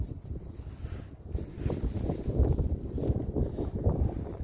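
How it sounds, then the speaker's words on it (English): Steady wind beside a creek buffets the microphone with a low, rumbling roar that gusts and swells throughout. "it's getting a little too windy."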